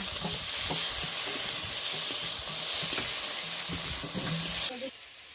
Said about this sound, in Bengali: টমাটোটা দিয়ে দিলাম, হালকা একটু নাড়াচাড়া দিয়ে